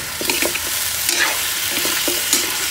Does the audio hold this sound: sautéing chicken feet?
yes